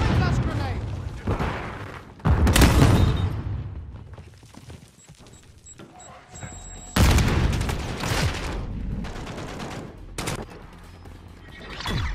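Loud, sharp blasts of a flash grenade and surrounding gunfire erupt in Call of Duty Modern Warfare II multiplayer, two heavy bursts with ringing tails set against a noisy mix of game audio and voices.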